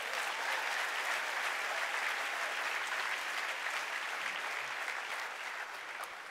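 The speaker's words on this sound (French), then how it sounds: "Est-ce qu'on peut applaudir le Seigneur?" A church congregation applauds, a steady wash of many hands clapping at moderate distance, holding even before easing slightly at the end.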